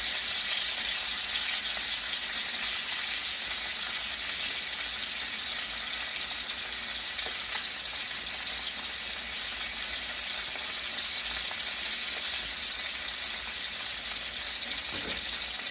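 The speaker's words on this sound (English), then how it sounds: "I'm going to cook the 3 of these in the pan, even though 2 is probably more sensible." Three pork chops frying in a pan give a steady, even sizzle that holds at the same level throughout, close and unbroken, with no talking.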